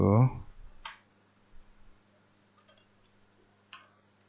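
A few isolated keystrokes on a computer keyboard spell out a channel description. The clicks come singly and sparsely in a quiet room after a brief voice at the start.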